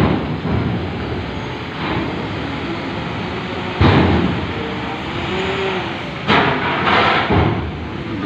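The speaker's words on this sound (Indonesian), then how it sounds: "Nah, ini ada truk nih, muatannya lumayan berat kayaknya." A heavily loaded truck rolls aboard a ferry at night, its deep engine rumble steady and loud. Sharp thumps and clanks break in twice as it crosses the ramp.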